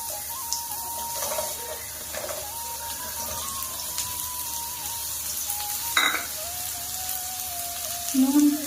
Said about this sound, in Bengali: প্রথমে ভেজে নিচ্ছি আলু।